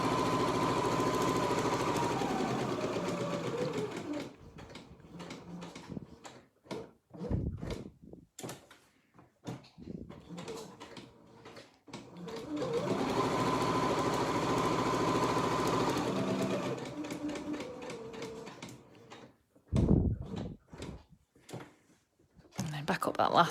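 A sewing machine stitching a pennant banner runs in steady whirring stretches and then halts. In the pauses come short clicks and knocks as the needle drops and the fabric is lifted and turned at the corners, and a voice talks throughout.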